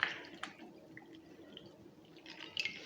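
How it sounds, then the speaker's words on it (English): Whole cabbage being shaken in a bowl of cold clear water while preparing kimchi: soft sloshing and scattered drips, quiet and close, with a brief splashier moment near the end. "I'm going to put it in the clear water, cold by the way, and just shake it off a little bit."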